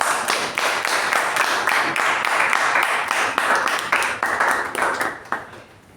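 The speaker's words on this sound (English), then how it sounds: "With a huge round of applause, let's welcome Toastmaster Chetan." Audience applause welcoming a speaker at a Toastmasters club meeting: steady, dense clapping from a room full of people that holds for several seconds and then tapers off at the end.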